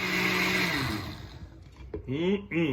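An electric blender whirs loudly as it purees butternut squash soup, holding a steady motor drone before slowing and cutting out, then a couple of short whirring bursts start up again near the end.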